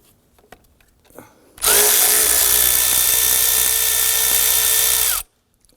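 A hand-held power tool loosens and removes an 8mm nut on the intake manifold of a 2015-2020 Ford F-150 2.7L V6, giving one loud, steady whirring run of about three and a half seconds, with no talk.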